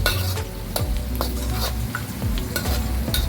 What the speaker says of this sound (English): Just want to brown the onions a bit.